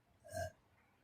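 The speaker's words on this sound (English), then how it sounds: "I'm burping." A single loud, close burp from a girl with indigestion swells and fades over about a quarter second, standing alone in an otherwise quiet room.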